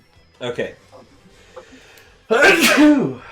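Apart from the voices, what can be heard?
sneeze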